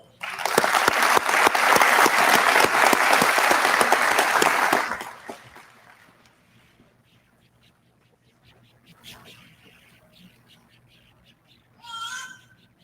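A graduation audience for a county sheriff's office academy class gives its class officers a dense burst of applause for about five seconds, which then fades into quiet room noise with a few faint scattered sounds.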